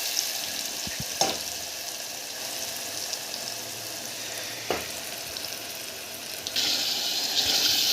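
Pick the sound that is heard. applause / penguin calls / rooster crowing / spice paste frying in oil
spice paste frying in oil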